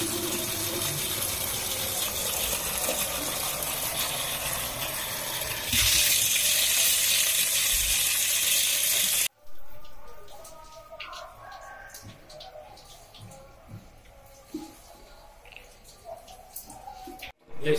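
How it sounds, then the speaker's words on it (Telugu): Pink-tinged water gushes hard from a borewell pipe in a steady, loud rush during the first half, then cuts out, leaving quieter outdoor ambience with scattered bird calls and faint drips. "బోరు ఆన్ చేయగానే మొత్తం గులాబీ కలర్ నీళ్ళు వస్తుంది"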